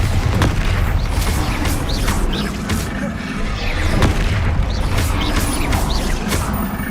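Spell blasts from a Bombarda explosion in Hogwarts Legacy, a series of booming impacts and crashes in dense, continuous game combat, with a player's voice over the clamor.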